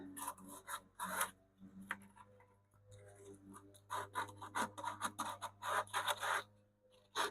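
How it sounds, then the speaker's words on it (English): A wooden tube radio cabinet is sanded by hand with 180 grit sandpaper, with close, dry rasping strokes in uneven bursts and short pauses between passes. "going to run my 180 grit back over top of this too, just make it softer"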